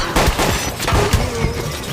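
A staged burst of gunfire plays as dacoits are attacked in a dramatized Hindi adventure story. Several sharp, booming shots crack in quick, irregular succession against a dense, noisy background.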